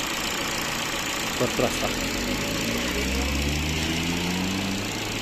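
A 2014 Ford Focus with a 1.6 engine and automatic gearbox idles steadily with a low, even hum, heard close, while someone speaks briefly over it.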